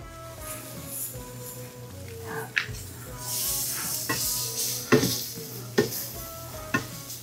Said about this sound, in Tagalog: Haluin nyo lang ito maigi.